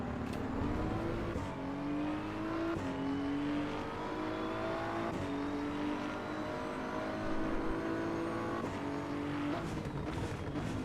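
A race car engine revs through a lap in the game Assetto Corsa EVO, with a steady drone climbing through the gears, repeated upshifts and short lifts, close and continuous.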